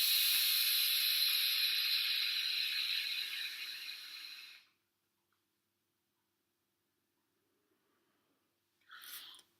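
Lung-hit vaping on a Kangertech Subtank Plus with the airflow valve fully open: a long, steady airy hiss of inhaling for about four seconds, then silence, then a short breathy exhale near the end.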